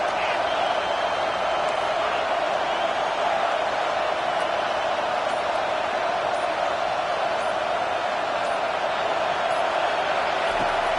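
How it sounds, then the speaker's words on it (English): A stadium crowd roars in an American football video game, a dense, unbroken wall of sound at high volume that holds steady from start to finish. "this crowd is making it miserable on this offense"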